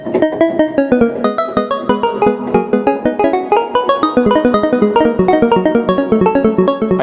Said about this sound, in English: if you reverse that with the reverse keyboard, it suddenly sounds like this